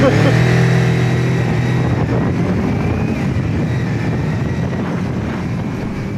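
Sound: TARO GP1 400 motorcycle engine and exhaust sound

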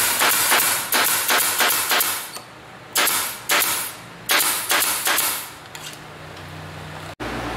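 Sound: pin nailing a speaker box together

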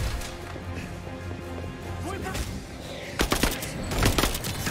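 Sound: gunfire in the video game Marvel's Avengers

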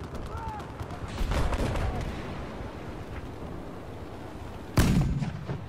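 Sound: video game chopper firing old-timey cannon

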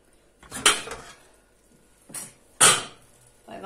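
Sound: opening a cooking pot of roasting pork knuckle

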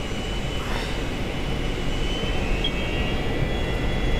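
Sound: Douglas DC-9 jet engines spooling up to takeoff thrust

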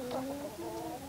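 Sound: chicks clucking around a pot of feed

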